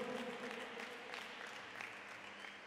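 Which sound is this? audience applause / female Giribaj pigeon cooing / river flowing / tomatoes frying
audience applause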